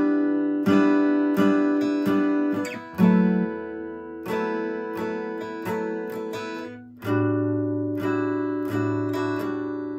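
Acoustic guitar chords plucked one string at a time, close and clear, with bright ringing notes in a relaxed rhythm and several shape changes, no voices over it.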